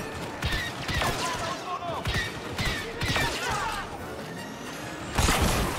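Blaster gunfire in the video game Star Wars Battlefront 2, with repeated sharp shots and bursts over game effects, including a louder volley near the end.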